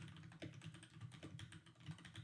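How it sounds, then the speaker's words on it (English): Rapid clacking keystrokes on a Keychron K8 mechanical keyboard, typed steadily and close by at low volume, with no talking. "I know y'all can hear my keyboard heavy. I got a new Keychron K8."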